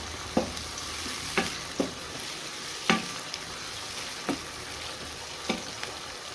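Ginger garlic paste frying with minced meat for a keema and cauliflower dish, a constant close sizzle broken by about eight regular scraping stirs of a spoon against the pan.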